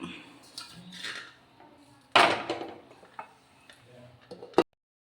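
A lid set onto a pot of curry, with light clinks and scrapes of metal cookware followed by one sharp clatter as it settles, mixed with some brief handling noises.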